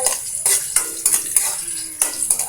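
Ginger sizzles in a hot pan as it is stirred, with a continuous close crackle and a metal utensil scraping and clinking in short repeated strokes, and no speech.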